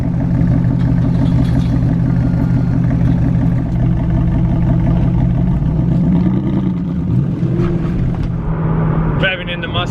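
A Maserati GranTurismo's engine hums low and steady from inside the car while driving, with a faint shift in pitch near the end.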